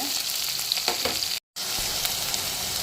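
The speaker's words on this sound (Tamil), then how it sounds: "கருவேப்பிலை கொஞ்சம் போட்டு கொஞ்சம் வெங்காயம் நல்லா வதங்கட்டும்" Shallots frying in sesame oil with curry leaves for a country chicken curry, a steady close sizzle with a few stirring scrapes and one brief dropout.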